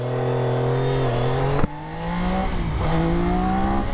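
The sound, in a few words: Triumph Daytona 660 triple-cylinder motorcycle engine accelerating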